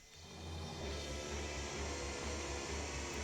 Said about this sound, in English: use that vacuum cleaner